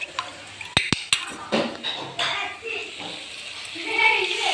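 Clinks of a spoon against a cooking pot as ground turmeric, cumin and coriander are mixed in, giving a few sharp metallic knocks early and then softer scraping stirs, with a person talking over it.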